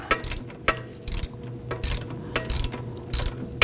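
Ratchet tightening the nut on a camber adjustment bolt in the front suspension of a 2005-2009 Subaru Legacy, giving several short bursts of quick clicking with brief pauses between strokes, close and clear with no talking.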